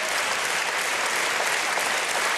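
An audience applauding at a concert after a song performance: dense, sustained clapping from a large crowd at an even level with no voices.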